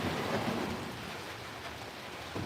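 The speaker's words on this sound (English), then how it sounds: "it's raining, so that's going to be really nice too." Steady rain falls in a dense, even hiss with low rumbling thunder beneath it, continuous and fairly close, with no voices present.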